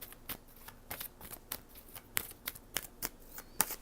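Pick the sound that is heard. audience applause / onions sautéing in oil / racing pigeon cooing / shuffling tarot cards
shuffling tarot cards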